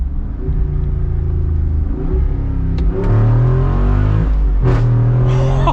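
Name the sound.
Jeep Wrangler V8 exhaust revving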